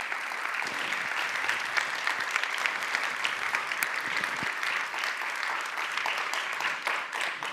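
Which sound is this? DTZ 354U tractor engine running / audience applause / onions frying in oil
audience applause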